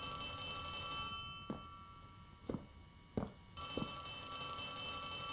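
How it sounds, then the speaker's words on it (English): A telephone rings in the horror video game Poppy Playtime Chapter 3, faint and distant over a steady electronic hum, with a few short rings spaced about a second apart. "I can hear a telephone?"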